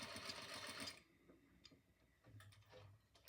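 A sewing machine stitching a lanyard keychain runs in a brief fast burst, followed by a few quiet mechanical ticks and clicks, close and faint with no speech.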